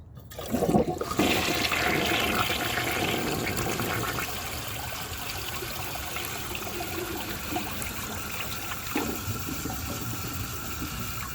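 A 1988 Artesian Atlantis toilet flushes a washcloth and grocery bag, opening with a sudden loud whoosh that settles into a steady rushing, gurgling flow of water and refill. It sounds close and runs alone without talk.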